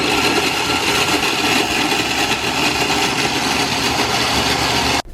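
A food processor crushes 32 Oreo cookies for truffles, producing a loud, close, steady whirring motor roar over grinding crumbs for several seconds before cutting off abruptly.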